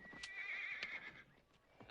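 Horse in a Western setting neighs in a sustained, shrill whinny while hooves clip-clop underneath, close and clear, with no talking.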